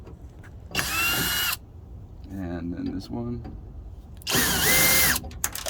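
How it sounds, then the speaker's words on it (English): A cordless drill with a T25 Torx bit backs out car taillight screws in two short, close whirring bursts. Someone speaks briefly between them. "I went ahead and put it in my drill, and you just take these out like so"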